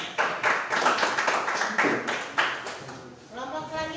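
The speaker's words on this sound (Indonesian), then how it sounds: "Baik, kita berikan tepuk tangan" A school class claps after a group presentation, a few hands beating in loose uneven bursts up close that fade out by the end.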